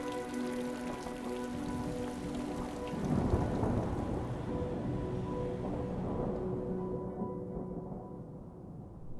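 Steady rain patters alongside deep rolling thunder, with a louder rumble swelling midway before the storm sound thins out and fades near the end.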